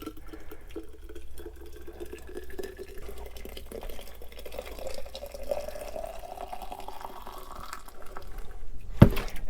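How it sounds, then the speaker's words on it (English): Hot coffee poured from a full pot into a thermos in an off-grid tiny house, a steady liquid stream whose pitch rises as the vessel fills, ending with a brief clunk. "So we'll just fill the thermos up."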